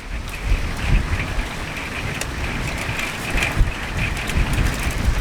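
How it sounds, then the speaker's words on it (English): Torrential rain driven sideways by strong wind pours down steadily and loudly close by, a dense continuous hiss of drops hitting surfaces with gusty low rumbling underneath; no talking. "The rain is literally going sideways."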